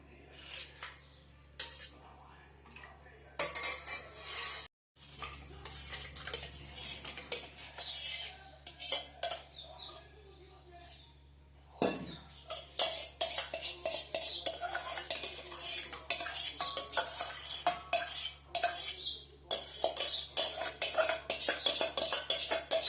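About 1.5 litres of yogurt is spooned into a metal pot for raita, with repeated close scraping and clinking of a utensil against metal throughout.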